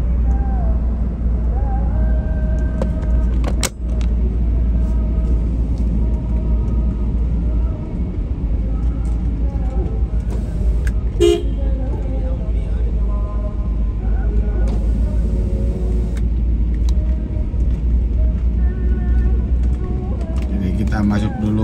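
A car drives slowly into a mosque parking lot in Citraland Tallasa City, Makassar, its engine a steady low rumble throughout with occasional knocks and clicks, while people talk over it.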